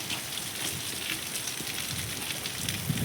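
Heavy rain pours steadily onto surfaces close by, a dense constant patter with no voices.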